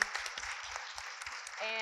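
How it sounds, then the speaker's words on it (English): Audience applause for a panel at a Women's Sports Foundation event at Hawken School, a steady wash of many hands clapping together through the whole stretch, with bits of talk mixed in. "A big round of applause for our amazing panel"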